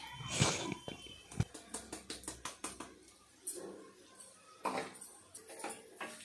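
Spoon scraping and tapping through a bowl of carrot, radish and capsicum pickle as spices are mixed in, a quick run of soft rhythmic clicks and knocks, fairly quiet and close.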